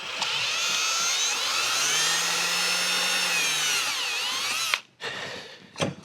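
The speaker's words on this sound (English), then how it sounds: "Find the head of the bolt and begin loosening." A power tool whirs loudly and steadily for nearly five seconds on the bolt of a XERO Pure MAX Plus, pitch sliding slightly as it works, then cuts out into a few brief rattles.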